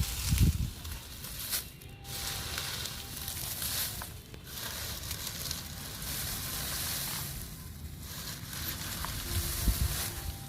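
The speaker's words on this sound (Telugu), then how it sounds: "ఇప్పుడు మళ్ళీ ఎండుటాకులు వేసుకున్నాము" Dry leaves are tipped into a compost pot on a terrace garden, giving a continuous crisp rustle and crackle, close and fairly loud, with a few brief thumps.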